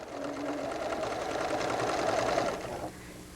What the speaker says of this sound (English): First, I'll sew a zigzag stitch on this edge